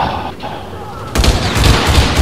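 Bursts of gunfire in a multiplayer shooter video game, loud and dense after a quieter start, with several rapid shots and booming impacts overlapping into a continuous volley.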